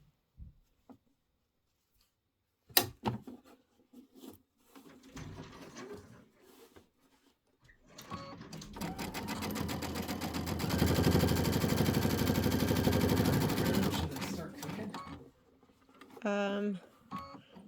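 Sewing machine stitching appliqué pieces onto a pillow top, a fast mechanical whir running steadily for several seconds after some handling clicks and knocks, with a person speaking before and after.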